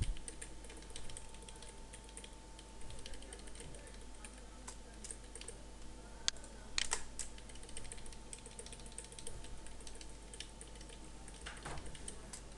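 Computer keyboard keys being typed and pressed while building a traffic signal animation in Macromedia Flash, a sparse run of soft clicks over a low steady hum, with a sharper cluster of taps partway through.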